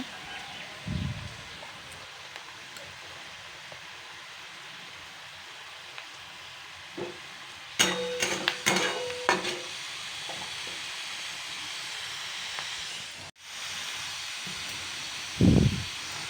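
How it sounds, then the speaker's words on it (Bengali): Tomatoes and onions frying in a pan, a steady soft sizzle and hiss running throughout, with a few louder stirring scrapes and clatters in the middle and near the end. "এবার পেঁয়াজের মধ্যে টমেটোগুলি অ্যাড করে টমেটো পেঁয়াজ দুটোকে ভালো করে ফ্রাই করে নেব"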